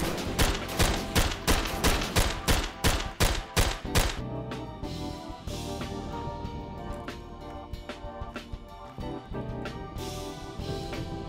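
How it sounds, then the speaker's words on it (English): Bursts of rifle fire in the VR shooter Tactical Assault VR, a rapid string of sharp close shots at first, then scattered quieter shots and echoes further off. "Oh fuck, we're taking fire."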